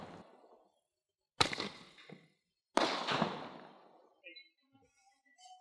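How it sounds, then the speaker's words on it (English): Delayed cracking firework shots, two sharp reports followed by dense crackling tails that fade, fairly distant, with quiet gaps and faint background sounds between. "8 shots of delayed cracking."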